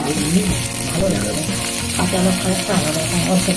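Soybean chunks fry in a pan of oil, with a loud, steady, close sizzle and crackle running throughout and some tonal sound underneath.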